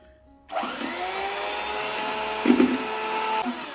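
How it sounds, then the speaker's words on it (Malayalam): An electric hand beater switches on abruptly and runs with a steady motorized whine as sugar is beaten into carrot cake batter in a bowl, with a brief rattling bump near the end and no talking. "കുറേശ്ശെ ചേർത്ത് ബീറ്റ് ചെയ്യാം."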